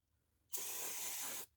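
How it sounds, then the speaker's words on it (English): Brake parts cleaner hisses from an aerosol can in one steady burst of about a second, sprayed close up onto parts in the engine bay of a 1989 Chevrolet Cavalier Z24. "I'm just going to spray it down a little bit to break that loose a little bit"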